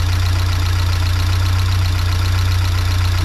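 A Fiat 124 Spider 2000 engine idles with a steady, loud low rumble and an even pulsing beat, close up and with no other sounds.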